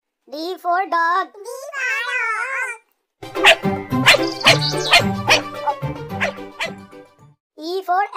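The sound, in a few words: dog barking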